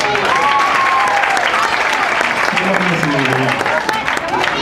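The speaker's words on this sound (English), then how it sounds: "I also like to give him a round of applause." Steady applause from a crowd at a sports award dinner fills the whole stretch, with cheerful voices and a few whoops rising over the clapping.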